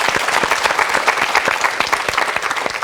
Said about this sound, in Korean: 저 아름다운 발을 위해서 우리 박수 한번 쳐주시면 어떨까요?